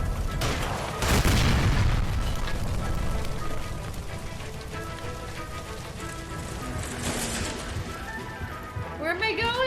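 A gas line blasts near a stove in the video game L.A. Noire, opening with a loud booming burst that gives way to a sustained roar and crackle of fire, with voices talking over it.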